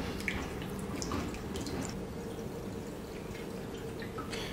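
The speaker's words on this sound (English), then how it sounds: "Then, the container can be filled up to the maximum mark with the help of the enclosed funnel." Water pours through a funnel into the cooling tank of a Nautilus T casting machine, a steady close splashing flow with scattered drips on top, continuous for several seconds with no voices.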